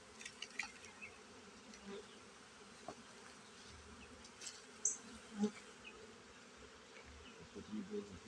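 Honey bees buzz steadily around an open hive during a brood frame inspection, a soft continuous hum with occasional louder passes of single bees close by, plus faint handling noises.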